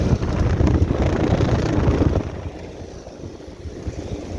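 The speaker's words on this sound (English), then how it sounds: "The compressor's running." A Ruud air conditioner compressor runs outdoors at a shopping center, a fairly quiet steady broadband whir and hum with wind buffeting the microphone, louder at first and then easing off.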